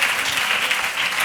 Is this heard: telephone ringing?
no